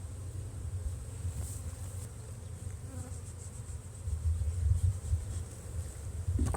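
Honeybees at a colony hive being inspected, with supers going back onto the box, give off a steady, close, continuous buzzing that swells slightly toward the end, with no talking.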